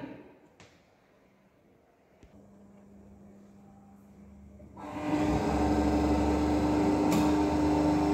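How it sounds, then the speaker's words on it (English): A DC shunt motor on a lab test bench starts up about halfway through, its faint hum jumping to a loud, steady whine with a sustained tone as it runs up toward 1500 RPM after a quiet stretch. "I will start the DC shunt motor, then I will adjust the speed to 1500 RPM"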